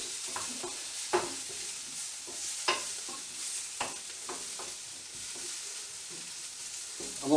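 Chorizo and onions frying in a pan produce a close, even sizzle punctuated by irregular spatula scrapes and knocks.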